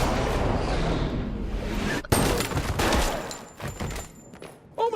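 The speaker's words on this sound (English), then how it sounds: "Fine, I'll just shoot you in the leg." Gunshots in a dramatic film scene, a dense burst of loud, rapid shots and booms that cuts off sharply, then more scattered impacts and debris.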